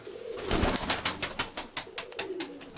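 Pigeons at a breeding loft coo in a steady rhythmic series of soft, repeated calls, close by and with no talk over them.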